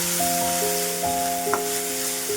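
Ginger-garlic paste fries in a pan with a steady, even sizzle, close and moderately loud, while faint sustained tones sit in the background.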